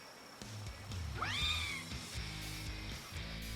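A cat pal in the Palworld video game gives a single rising, drawn-out meow that stands clear over soft, steady game background music.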